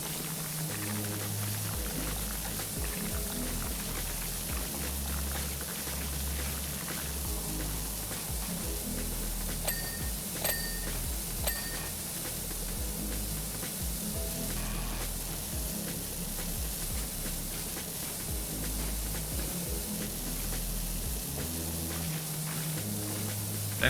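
Pressure washer in Power Wash Simulator spraying a steady, unbroken jet of water across the whole stretch, a loud hissing wash with low rumbling beneath and no talk.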